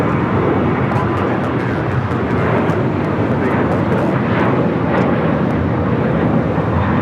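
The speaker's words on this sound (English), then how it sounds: "The sounds of the GE90 starting up," Cathay Pacific Boeing 777 with GE90 engines starting up at an airport, a steady loud broadband roar and rumble filling the whole stretch with faint intermittent higher tones.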